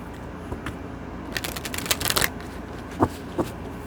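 Oracle cards from an Akashic Records deck shuffled by hand close up, a loose rustle building into a quick riffle of crisp flicks, followed by two sharp taps as the cards settle.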